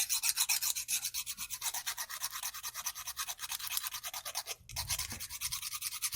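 Fast, rhythmic rasping strokes of a small metal amulet piece being rubbed down by hand, a steady scrubbing pulse that is close and fairly quiet, with a brief pause near the end before it resumes.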